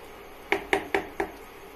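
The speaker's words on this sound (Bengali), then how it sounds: "আমি এবার এই আলুগুলো দিয়ে দিলাম।" Four clear ringing clinks, evenly spaced and fairly close, as potatoes are added to a pot of Bengali mutton curry, against a low steady kitchen background.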